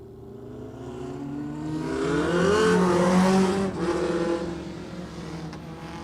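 Several race cars circle an oval track at a club meeting, engines droning and rising in pitch as they draw nearer and pass, the roar swelling loud mid-clip before easing away, with no talk.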